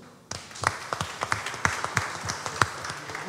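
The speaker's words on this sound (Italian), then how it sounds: "Applauso a Ciccio" A small group applauds at a press conference for a bread and pasta festival, with sparse, distinct individual claps in an irregular rhythm, close and moderately loud.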